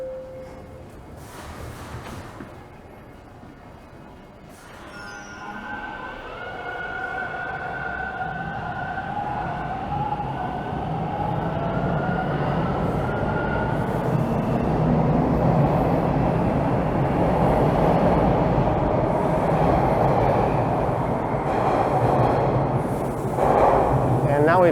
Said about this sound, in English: That train's going up to Kennedy.